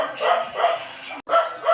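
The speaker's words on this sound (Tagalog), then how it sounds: "Napakaingay ng aso." Dog barking in the Minecraft video game, three loud close yelps in quick succession with a brief gap before the last, heard alone without talk.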